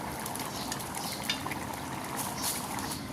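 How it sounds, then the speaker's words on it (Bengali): Eggplant and potato ghati is stirred in a pan with cumin powder and chopped coriander leaves, making a faint, steady sizzle with light scraping. "ধনিয়া পাতা আর জিরার গুঁড়ো ভালো করে নেড়ে চেড়ে মিশিয়ে নেব"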